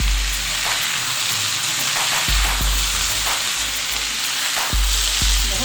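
Mixed vegetables with black pepper powder stirred in a hot pan, a steady close sizzle broken by repeated scraping and knocking strokes of the spoon.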